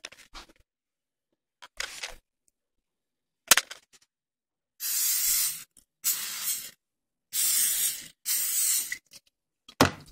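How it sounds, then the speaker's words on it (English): An aerosol can of cooking spray gives several short hissing sprays onto a waffle maker with brief pauses between them. Small clicks and handling noises fall in between, and there is no talk. "the thing you need is your spray. Cooking spray, doesn't matter which one."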